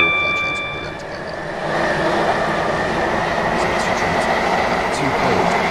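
A Class 730 train on the Waterline route in the Roblox SCR game runs with a steady, loud rumbling rail drone and faint high tones early on, continuous throughout.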